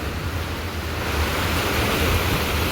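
The Sabarmati river surges in a strong, unbroken torrent, loud and near, its low churning rumble and broad hiss holding steady and swelling a little toward the end.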